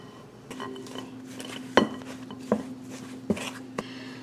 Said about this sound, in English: now we're just going to mix this until it is all mixed together